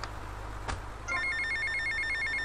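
A telephone rings in the video game GTA Vice City, a repeating electronic trill that starts about a second in and continues steadily over a low game background hum, with a brief click just before.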